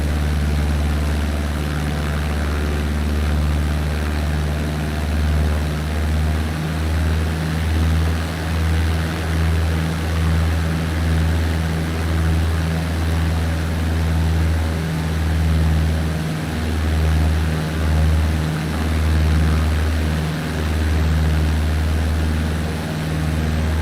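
A steady aircraft propeller engine drones in Microsoft Flight Simulator during a training climb near the airport, a constant low hum with a faint pulsing, loud and unbroken throughout.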